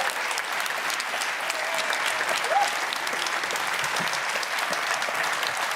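Studio audience applause greeting Peggy Seeger's entrance on a late-night talk show, a steady, dense wash of clapping from many hands that holds at full strength throughout.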